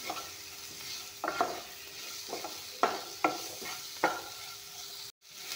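Tomatoes and spice frying in a pan, stirred with a few distinct scraping and tapping strokes over a soft continuous sizzle, close and quiet, with no talking.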